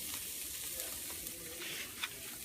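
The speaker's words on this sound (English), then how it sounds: "You can hear them start to sizzle right away." Beef steaks sizzle on a Broil King Porta-Chef tailgating grill with the hood open, a steady close hiss of frying fat with small pops and one sharper crackle near the end, no talk.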